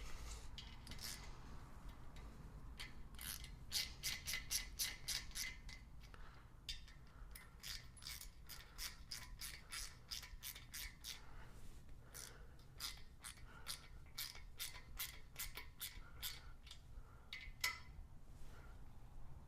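Camshaft bolts on a Pontiac engine build being tightened, heard as faint, rapid runs of light metallic ratchet clicks over a low hum, with brief pauses between runs.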